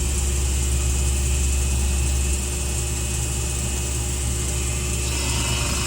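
A PM-30MV CNC mill takes a light pass through aluminum, giving a steady, close mechanical hum with a faint tonal whine that shifts slightly partway through.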